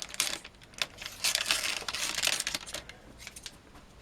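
Close crinkling and tearing of plastic packaging being cut open around a 2 TB hybrid hard drive, in short irregular bursts with no talking.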